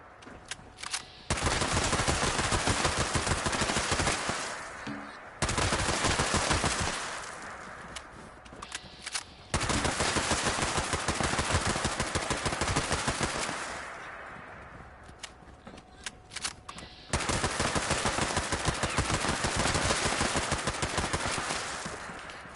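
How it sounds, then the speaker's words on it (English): AK-47 automatic fire in the video game Fallout 76, long sustained bursts of rapid loud shots separated by short pauses. "How about an automatic? Or how about a AK-47?"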